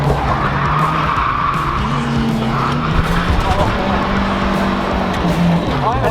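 A car drifting with a hydraulic handbrake lets out long, loud tire squeals over a steady engine roar, the screeching pitch sliding up and down as it slides continuously.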